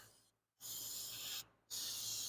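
Cleaner sprayed onto spilled antifreeze in the engine bay of a 2005 Toyota Camry 2.4 liter, two loud hissing spray bursts separated by a short pause, close by, with no voices.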